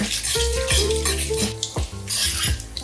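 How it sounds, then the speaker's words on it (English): Cardamom and cumin seeds fry in extra virgin olive oil in a pot, giving a steady close sizzle with scraping stirring and clinks of a utensil against the pan, no talking. "Extra virgin olive oil there. Cardamom, cumin seeds. Fry them until they're aromatic."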